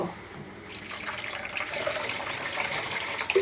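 Water pours steadily into a cooking pot on the stove while making fish curry, a hissing, splashing stream that grows slightly louder over a few seconds.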